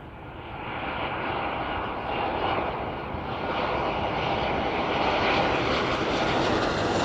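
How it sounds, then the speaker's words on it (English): A passenger airplane touches down smoothly, trailing tyre smoke, on the runway at East Midlands Airport. Its engines roar steadily and loudly throughout, with a broad rushing noise that swells slightly toward the end. "Very smooth but smoky touchdown"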